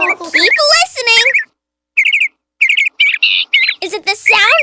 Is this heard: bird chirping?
yes